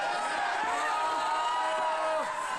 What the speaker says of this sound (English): You can even hear the crowd.